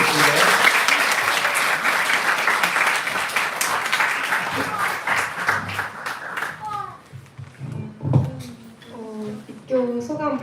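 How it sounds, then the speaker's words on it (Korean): A church congregation at a baptism and confirmation service applauds loudly to welcome a speaker, the clapping fading over several seconds before voices take over. "우리 김재슬 자매 먼저 앞으로 초대할 테니까 저희가 박수로 환영해 주시면 좋겠습니다."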